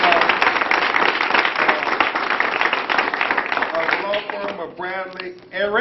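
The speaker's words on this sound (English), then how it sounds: "So give them a round of applause" An audience at a Tuskegee gathering gives a round of applause, a steady crowd clapping that runs loud for several seconds before it tapers off and a voice begins talking.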